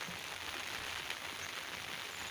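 Rain falls on a garden during a storm in Ubon province, a soft, even hiss of drops that holds steady and fairly faint for the whole moment, with no speech.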